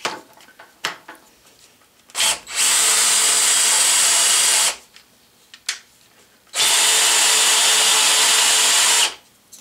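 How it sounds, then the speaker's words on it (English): A Bridgeport milling machine runs a homemade device in two long, loud, steady whining stretches of a few seconds each, with quieter mechanical clatter between them. "And here I am at the Bridgeport demonstrating Vic's device."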